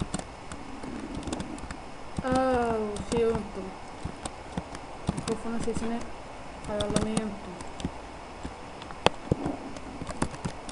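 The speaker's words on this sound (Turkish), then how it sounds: "bu klavye nedense çok sesli" Rapid, clattering keystrokes from a loud keyboard run in bursts beneath someone speaking while playing S4 League, with short pauses between flurries of typing.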